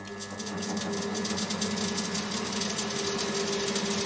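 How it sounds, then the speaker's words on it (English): A CNC lathe spindle spinning up during gear cutter turning, a steady mechanical whir with a rapid fluttering rattle, moderately loud and continuous with no talk. "Turn on the spindle"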